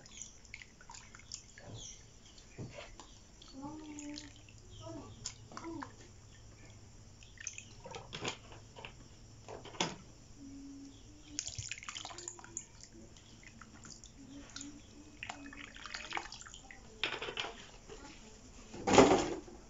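Water poured into a potted bougainvillea cutting to soak the growing medium, heard as faint scattered drips and trickles with occasional splashes and soft handling knocks in a quiet outdoor setting.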